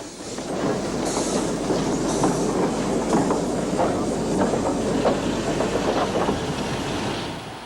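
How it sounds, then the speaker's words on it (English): A diesel-hauled broad-gauge train drops a rake of modern suburban coaches into a station platform in Portugal, rolling steadily with loud, continuous rumble and rhythmic clickety-clack of wheels over rail joints throughout. "drops a rake of coaches down into the Porto platform, ready for the broad-gauge connection to the big city"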